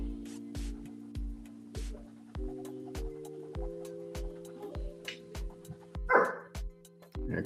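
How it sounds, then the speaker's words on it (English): A pet dog in a home lets out a few short barks, with one louder yelp near the end, among a steady ticking and humming background. "There go my dog's acting up"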